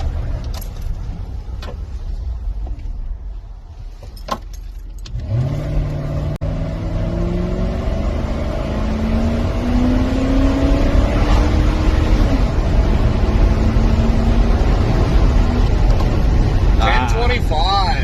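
A Dodge pickup truck accelerates hard from 0 to 60 on a road, its engine droning louder and rising through several gear changes over many seconds, heard from inside with people talking over it.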